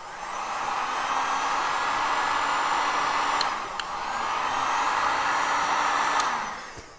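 A handheld heating appliance blows hot air over buttercream, a loud continuous whooshing blower drone with one short dip near the middle.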